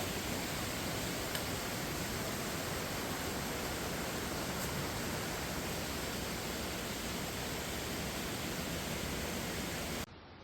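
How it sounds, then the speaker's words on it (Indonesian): A steady, dense rush of flowing water, a stream tumbling over rocks near a waterfall, continues unbroken at close range before cutting off abruptly. "kembali terdengar suara gemericik air"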